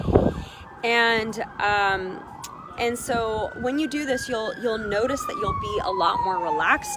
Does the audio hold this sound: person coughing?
no